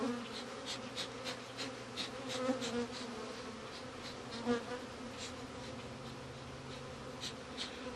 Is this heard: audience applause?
no